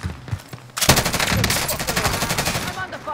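Rapid automatic gunfire in Call of Duty Warzone on Rebirth Island, with a PPSh and Kilo in use, a loud close burst of fast shots that starts suddenly after a few quieter pops and continues for over two seconds.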